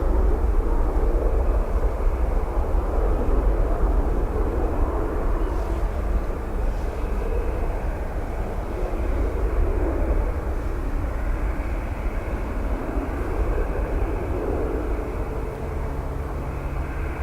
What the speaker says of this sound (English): That noise you hear in the background is the reversers of the Qatar Dreamliner.